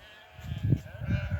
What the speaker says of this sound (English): So we've got the ewes in, as you can see.